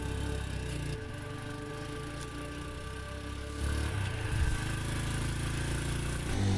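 A motorcycle engine runs steadily at a moderate level, a low continuous hum that swells slightly toward the end, with no voices.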